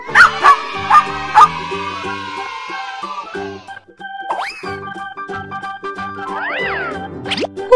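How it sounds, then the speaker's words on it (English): Toy-like dog barks sound from a children's wooden animal slot puzzle, a few sharp yips near the start over bright, steady musical tones that continue throughout with rising and falling sweeps. "Dog."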